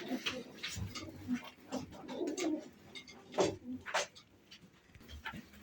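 Pigeons coo in low, soft bursts, several birds overlapping with scattered wing flutters and shuffling close by.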